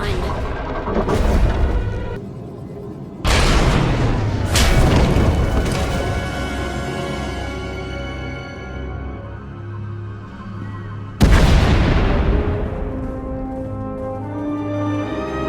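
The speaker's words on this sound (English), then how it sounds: "We heard explosions. The tunnel collapsed." Deep booming explosions in a Star Wars: Knights of the Eternal Throne video game scene, three heavy blasts spaced several seconds apart, each followed by a long rumbling debris and collapse tail as a tunnel caves in.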